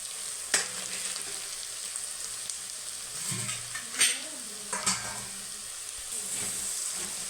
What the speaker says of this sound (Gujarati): રતાશ થઈ જાય ત્યાં સુધી આમ પાકવા દેવાનું ઘીમાં દૂધીની ગ્રેવી હલવા બનાવવા માટે